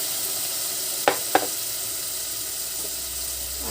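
Oyster mushrooms sautéing in a hot pan give a steady, fairly loud sizzle that runs throughout, broken by two sharp clacks of a utensil against the pan near the middle.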